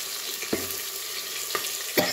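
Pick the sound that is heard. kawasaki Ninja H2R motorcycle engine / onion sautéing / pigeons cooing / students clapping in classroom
onion sautéing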